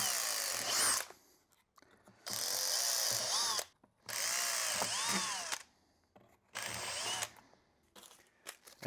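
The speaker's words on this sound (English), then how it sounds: "So let's go ahead and drill the holes." A power drill whirs loudly in four long bursts separated by short pauses, its pitch rising and falling as it bores holes for RC LiPo battery hold-downs.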